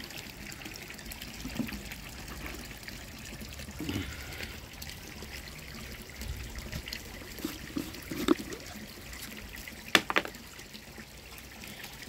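Water flows back into a koi pond with a faint, continuous trickle and gentle splashing, a few brief louder splashes standing out against the low, steady flow.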